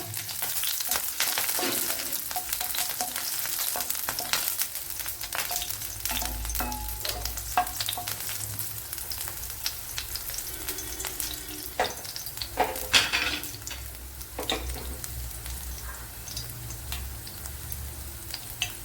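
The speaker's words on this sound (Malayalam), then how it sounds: "ഒരു ചെറിയ പീസ് പച്ചമുളക് ഇത്രയൊന്ന് നല്ലതുപോലെ ഒന്ന് മൂപ്പിച്ചെടുക്കാം" Green chili sautéed in a pan crackles in a continuous close sizzle, dotted with small pops and occasional scraping stirs throughout.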